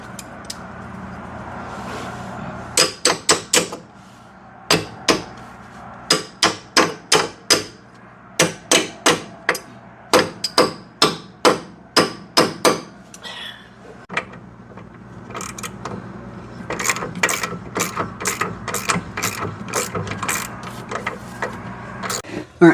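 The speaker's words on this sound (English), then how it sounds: "you'll have to grab something and you'll have to bang it out" A hammer bangs out a stuck part on a Saturn Sky suspension during a BC Racing coilover install: dozens of sharp metallic blows, first in spaced strikes, then in quicker, denser bursts, loud and close in a garage.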